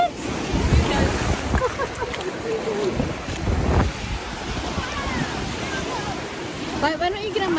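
Ocean waves wash along a beach coastline under gusty wind buffeting the microphone, with steady surf noise throughout and brief voices mixed in.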